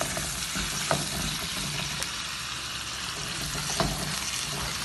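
Small chopped chicken pieces fry in a pan with a steady sizzle and crackle, close and continuous, broken by a few louder sharp pops and stirring clatters.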